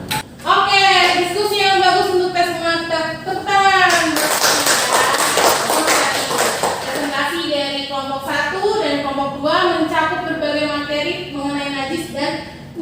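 Students in an Indonesian classroom break into a short burst of group clapping partway through, surrounded and overlapped by a teacher's speech before and after.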